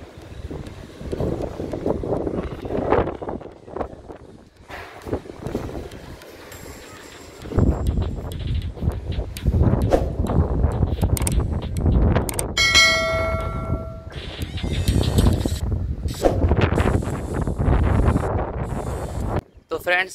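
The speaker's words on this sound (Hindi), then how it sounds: "छत पे जो है बहुत ही ज़्यादा हवा चल रहा है" Strong wind gusts buffet the microphone on an open rooftop, a steady roaring rumble broken by brief lulls, with a faint bell-like ringing tone in the middle.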